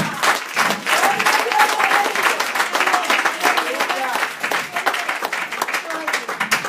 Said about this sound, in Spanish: Es un aplauso al Padre, al Hijo y al Espíritu Santo.